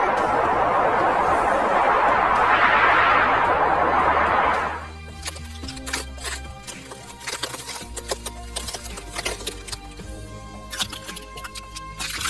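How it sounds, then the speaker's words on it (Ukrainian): Ice cracking in a winter setting, a steady rushing hiss giving way to a series of crisp, irregular snaps and crackles that are moderately close, with no talk over them. "Тріск льоду."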